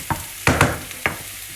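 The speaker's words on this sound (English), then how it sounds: "So we're just cooking the onions and red onions and garlic." Onions, red onions and garlic frying in a pan, heard as a few short scraping stirs over a low, faint sizzle, close and brief with no speech.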